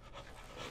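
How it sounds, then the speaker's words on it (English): Heavy, raspy breathing in the horror video game Cry of Fear, one brief breathy pant that sounds close and fairly quiet, with no talk. "who's breathing?"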